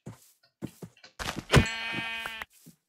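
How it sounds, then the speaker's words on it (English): Blocky sheep in the Minecraft video game bleat in short, separate cries. A longer, louder tonal bleat comes near the middle, with softer calls before and after it, all close and with no talk. "Bro, there's so much sheep here!"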